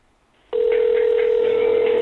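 A telephone ringback tone sounds while calling a lottery winner, a steady, loud single-pitched tone starting after a half-second of near silence and holding to the end.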